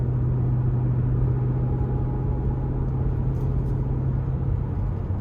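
A 2016 Maserati GranTurismo Convertible Sport in sport mode cruises with a steady, deep exhaust drone and low rumble from inside the cabin, constant and even, with no voices.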